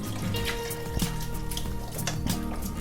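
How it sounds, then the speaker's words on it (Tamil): Boiled liquid is poured into a pot of mutton kulambu, giving a close, continuous splashing trickle with small bubbling and dripping sounds throughout and no talk. "வேக வச்சது வந்து ஊற்றுறோம்."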